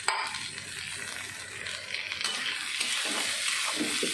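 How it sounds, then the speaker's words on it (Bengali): Rice for basanti polao frying in a pan, a steady close hiss and crackle that holds on throughout with faint stirring scrapes and no voices. "চালটা একটু ভেজে নেব।"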